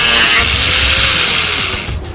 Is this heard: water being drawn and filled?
no